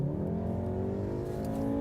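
Turbocharged engine of a 2015 Volkswagen Golf R revs steadily under load, a loud, close, continuous harmonic drone that climbs slightly in pitch throughout.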